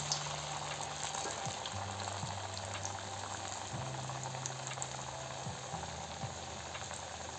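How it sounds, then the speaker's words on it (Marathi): Moong dal vadas frying in hot oil give a continuous, fairly faint bubbling sizzle, steady throughout, with no voices. "आता वडे तेलामध्ये तळून घेऊ।"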